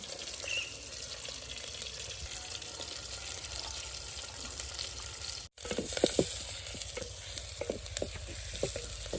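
Onions and green chillies fry in hot oil in a village kitchen pan, a steady close sizzle running throughout, with a brief dropout midway followed by scattered sharper crackles and stirring clicks.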